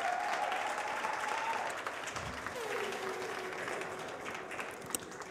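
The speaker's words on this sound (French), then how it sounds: "Est-ce qu'on peut l'applaudir, s'il vous plaît?" Audience applause breaks out after a face-to-face segment on a French stage show, a steady wash of clapping lasting several seconds with a voice briefly rising over it.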